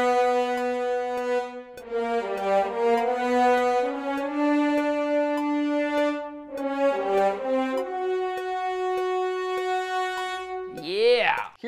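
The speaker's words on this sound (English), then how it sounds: "I'm gonna start with low horns" Low brass horns play a slow, dark, ominous villain melody of sustained notes, loud and close, with a brief rising swoop at the end.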